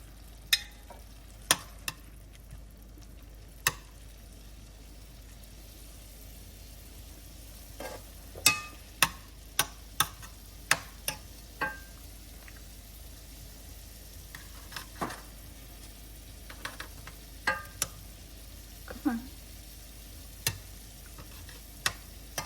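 Shrimp fry quietly in a pan with a soft, steady sizzle, broken by scattered sharp pops and crackles.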